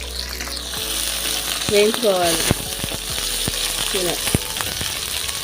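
Onions, garlic and curry leaves fry in hot oil with a strong, continuous sizzle, punctuated by stirring scrapes and clinks and a brief spoken word.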